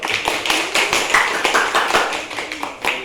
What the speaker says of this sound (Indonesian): Tepuk tangan dulu untuk Angel.